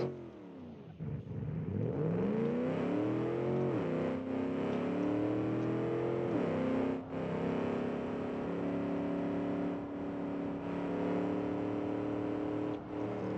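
A sports car in a racing video game revs and accelerates hard, its engine note climbing steadily in pitch through several gear shifts, loud and continuous with no talking.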